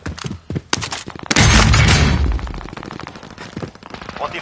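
Bursts of automatic gunfire in the Call of Duty Warzone video game, sharp cracks at first, then a long loud sustained volley of rapid shots with heavy thuds, trailing off into scattered pops.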